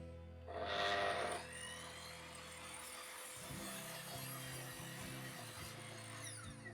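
A mitre saw squaring off the bottoms of beech table legs: a short, loud whining cut near the start, then a lower rumbling and scraping rhythm from the bench as the work continues, close by with no talking.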